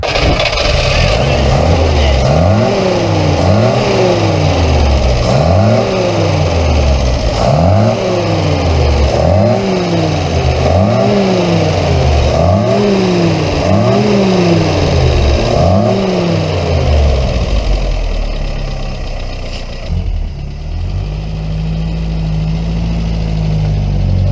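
A Peugeot 404 engine runs close by and loud, revving repeatedly in a regular rise-and-fall rhythm before dropping to a steady idle, with people talking over it.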